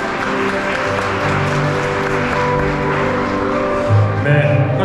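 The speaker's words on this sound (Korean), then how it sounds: "네, 박수 한번 부탁드리겠습니다." Wedding guests applaud in a continuous, dense wash of clapping inside a hall, with faint music in the background and a brief louder burst near the end.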